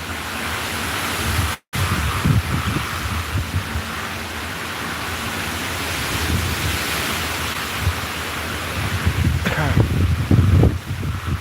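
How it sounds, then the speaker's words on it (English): Strong hurricane wind roars as a steady broadband rush with gusting swells and rumbling buffets against the microphone, loud and continuous throughout. "to see if you guys are actually getting the gist of how hard that wind is blowing"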